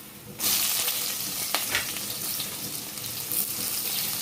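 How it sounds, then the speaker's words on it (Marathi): Onion dropped into hot oil with browned garlic, a sudden burst of loud sizzle that settles into a steady close frying hiss with a couple of light stirring scrapes. "आता याच्यामध्ये आपला कांदा टाकून घ्यायचा"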